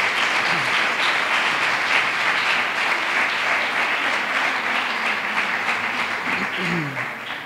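Sustained applause fills a crowd at a Three Kings coronation ceremony in Maribáñez, steady and dense throughout, with a few voices briefly rising beneath the clapping near the end.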